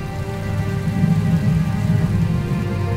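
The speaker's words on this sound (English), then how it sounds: "Then, a great rain set in." Heavy rain pours in a dense, continuous roar with a low rumbling undertone, steady and loud throughout with no voices.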